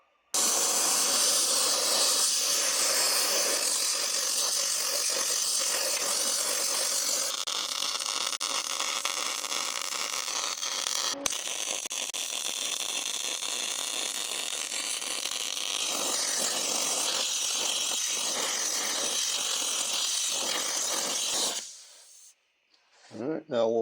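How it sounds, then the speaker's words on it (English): A torch roars in a steady loud hiss while heating a steering knuckle before welding on a steering rebuild, running almost continuously and then cutting off near the end. "now I'm going to take the torch and heat up the knuckle all in the area I need to weld"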